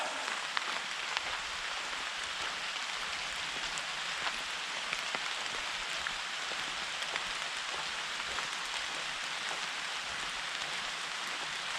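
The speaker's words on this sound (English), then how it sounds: "It is really bucketing it down right now." Heavy rain pours onto a Swedish forest, a dense, continuous patter of drops on leaves and surfaces with scattered sharper close hits, steady and fairly soft overall, no talking.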